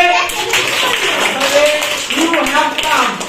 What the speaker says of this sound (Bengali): শাবাশ হাততালি